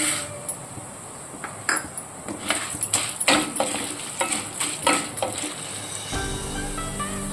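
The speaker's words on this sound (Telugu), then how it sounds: "మినపప్పు కొంచెం ఆలిస్ కలర్ వచ్చేటట్టు వేయించుకుందాము" Urad dal and chana dal dry-roasting in a pan for curry leaf spice powder, heard as soft scattered sizzling with repeated stirring scrapes and clinks of a spoon against the pan, close and fairly quiet.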